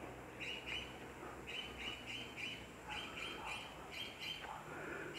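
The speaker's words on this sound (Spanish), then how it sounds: "¿Ustedes escuchan ese pájaro?" A bird sings outdoors near a city, repeated bright chirping phrases at a steady pace over faint ambient background, moderately distant and soft.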